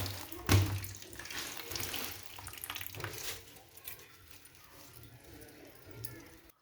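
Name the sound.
water running from a tap while washing spinach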